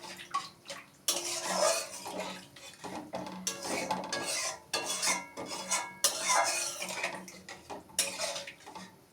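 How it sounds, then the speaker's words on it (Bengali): Water poured into a pan of fish curry with oil already separated, giving a steady splashing, clattering pour in bursts with metallic pan knocks, close and moderately loud, no talking. "এবার আমি জল দিয়ে দেবো।"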